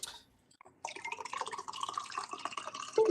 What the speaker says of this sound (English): What are you pouring? A cup of coffee?